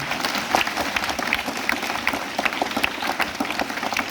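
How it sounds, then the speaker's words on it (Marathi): Students at a village primary school's Ambedkar Jayanti lecture clap loudly, a continuous, fairly close burst of crowded applause with individual sharp claps standing out throughout. "त्या जोरदार टाळ्या पण वाजवतात"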